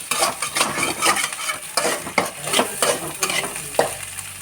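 Egg fry stirred in a pan with a utensil: repeated scraping strokes over a steady close sizzle, clattering in an uneven rhythm with no talking.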